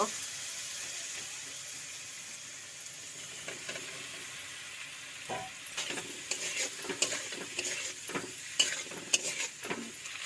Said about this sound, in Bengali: এবার দিয়ে নেব পাস্তা মশলা, এটাকে ভালো করে একটু মিক্স করে নেব আর পাস্তা ঢেলে নেব